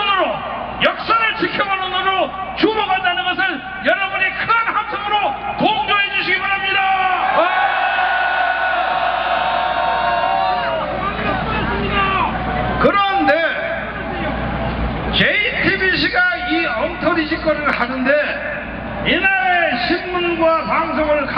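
A political rally crowd roars and bellows in loud, sustained shouting of agreement, swelling in waves with whoops and yells, mixed with a loudspeaker voice and general hubbub throughout.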